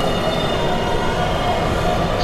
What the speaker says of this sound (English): This is a Krypton-bound 7 train